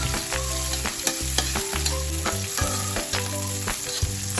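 Sliced onion and garlic fry loudly in hot cooking oil in a pan, a constant close sizzle broken by regular stirring clatters, with no talking.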